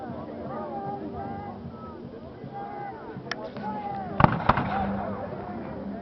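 Several sharp Cossack musket shots crack in a quick cluster under a narrator's voice, a couple of them loud and close amid background commotion, in a depiction of the Battle of Berestechko.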